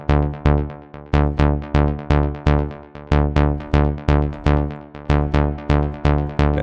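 Bass Suspect, a rhythmic top-bass synth preset for melodic techno, plays a loud, steady stream of short plucked notes. Each note decays quickly in a driving repeating pattern with no talking.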